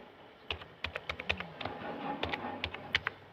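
Someone types on a computer keyboard with irregular bursts of crisp key clicks and taps, close and moderately quiet, with brief pauses between strokes.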